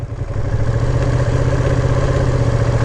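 A motorcycle engine held just above idle as the throttle is opened very lightly, a loud, close, steady low chug that swells slightly at the start and then holds even, with no speech.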